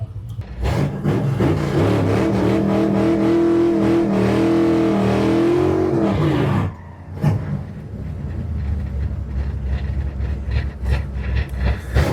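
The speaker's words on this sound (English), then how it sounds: "Second gear burnout." A drag car does a second gear burnout at Lewistown drag strip during Big Sky Race Week, its engine a loud sustained roar with a rising, wavering tone that cuts off abruptly, then settles into a rougher idle-like rumble.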